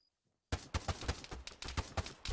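Burst of gunfire from the video game Arma 3, about a dozen sharp rapid shots close by, starting abruptly after a brief silence.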